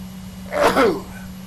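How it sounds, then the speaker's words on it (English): One loud sneeze up close, a quick sharp burst of breath in two parts over a steady low hum. "Oh boy, big sneeze."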